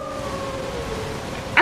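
Wolves in Elden Ring let out a drawn, wavering howl at moderate distance, with a sharper cry rising right at the end.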